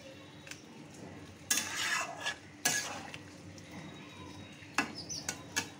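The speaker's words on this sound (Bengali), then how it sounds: "দেখো, পাঁপড়গুলো দিয়ে এইভাবে নেড়ে ঝোলের মধ্যে চুবিয়ে দেবে।" A spoon stirs papad into a potato gravy in a pot, giving a few sharp scrapes and clinks among quieter shuffling, close and fairly soft.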